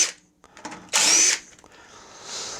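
A cordless drill-driver with a 1/4 inch socket whirs in a loud, steady half-second burst while working on an Ariens 926LE snow blower, preceded and followed by faint clicks and handling noise.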